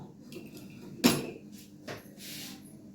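A metal lid is set onto a cooking pot of mutton kosha with one sharp clank, followed by a softer clink and quieter rattling afterward.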